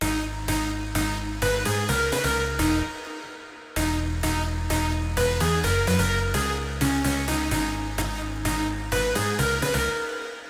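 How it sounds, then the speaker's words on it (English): Electronic dance track in production, with a deep sub bass and rhythmic bass line pulsing under bright chords, cutting out briefly near the start before the full loud mix returns and plays on. "So we now kind of have a bass line as well."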